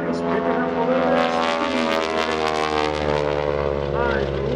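An aerobatic propeller airplane performing at the Greenwood Lake airshow rolls over and starts diving, its engine drone sliding in pitch as it descends, loud and sustained over an announcer talking throughout.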